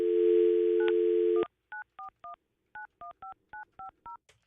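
Odd noise on a telephone line during a call: a steady dial tone cuts off into a quick run of about eleven short touch-tone beeps, clear and close with nothing else heard.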